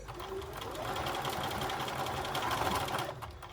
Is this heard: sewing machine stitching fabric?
yes